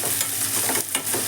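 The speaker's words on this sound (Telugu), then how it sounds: "క్యాప్సికము, క్యారెట్, కాస్త వేగనిద్దామండి." Thinly sliced capsicum and carrot fry in hot oil in a pan, a loud, close, continuous sizzle with a few brief stirring scrapes and no voices.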